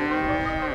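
A cow gives one single long, close moo, loud and alone.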